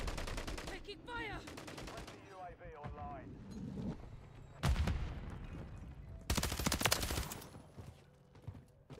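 Gunfire in the video game Call of Duty MW3, with bursts of shots in the middle and near the end, heard under and between a player's speech in a busy game mix.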